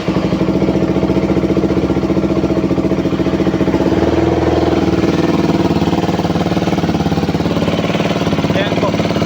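A KTM Duke 200 motorcycle with a burned radiator fan runs at a steady, close, loud idle, its single-cylinder engine chugging in a rapid even beat, with someone talking over it.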